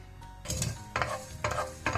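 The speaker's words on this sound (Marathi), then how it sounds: "एक कायल उन करून ताका मेथी आणि सासांव घालया आणि ती कशें भाजून काडया" Fenugreek and mustard seeds being dry-roasted in a hot pan, with repeated stirring scrapes and a light sizzle in several bursts, close and moderately loud, no voices.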